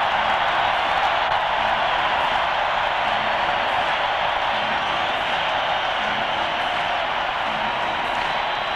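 A stadium crowd at a 1991 World Series baseball game applauds and roars steadily as a player acknowledges them, a dense, loud, unbroken wash of clapping and cheering.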